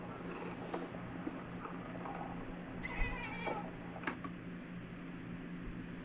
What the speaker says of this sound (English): Did it meow? It's kind of like a bird squawk